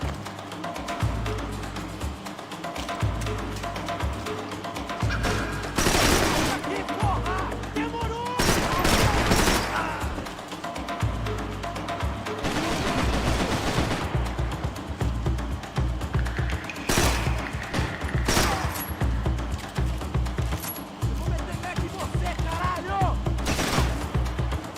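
Rapid gunfire from the video game Max Payne 3, bursts of shots and booms crowding together over a dense, loud game soundtrack, with someone talking now and then over the action.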